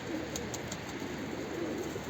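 Pigeons coo softly against a constant hiss of outdoor background noise.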